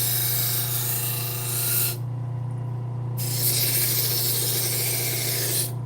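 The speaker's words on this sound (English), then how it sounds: "So even with the Scotch-Brite wheel that took 4 or 5 passes, still didn't quite get it all off" A Scotch-Brite wheel strips the burr from a knife blade, with a bright abrasive rasp over a steady motor hum. Two grinding passes are split by a short quieter break where only the hum remains.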